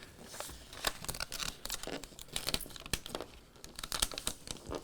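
Transfer tape peeled back from the backing of a custom Cricut-cut vinyl decal, giving a close, busy run of crinkling, crackling rustles with sharp ticks scattered throughout, heard alone.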